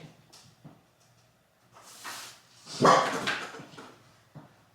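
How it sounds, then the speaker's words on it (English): A dog at home barks a few times and growls, with short sharp barks spread across the clip and one louder burst near the middle. "Who are you barking at?"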